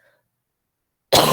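Near silence, then a single short, forceful cough close by at the very end.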